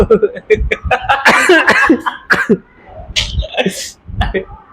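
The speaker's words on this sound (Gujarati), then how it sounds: "ઉધરસ આવી કે પાણી લેતા" A burst of coughing mixed with lively nearby talk and some laughter, several short harsh coughs in quick succession.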